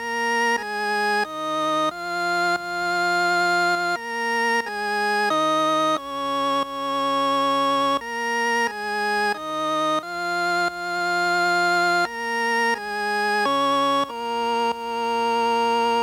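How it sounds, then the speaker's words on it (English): A stock synthesizer organ sound plays a simple sequence of sustained chords, each swelling in with a soft attack, steady and alone. "this is just a stock organ sounds that I played over the breakdown"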